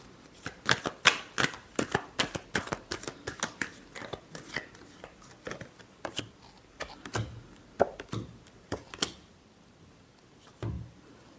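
Tarot cards being shuffled by hand close up, a quick run of crisp riffling flutters and slaps that thins out and slows toward the end, with no talking.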